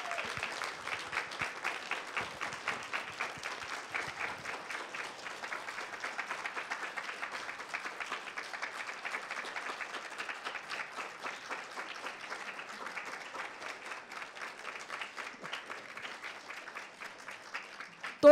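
Sustained applause from a sizable audience at an award ceremony, steady dense clapping continuing for a long stretch at a moderate, even level.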